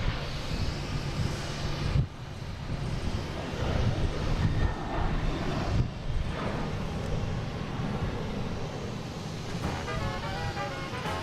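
A United Boeing 737-900 jet at Boston Logan airport gives a broad, steady roar that holds for about eleven seconds, mixed with wind buffeting on the microphone and a faint whine late in the passage.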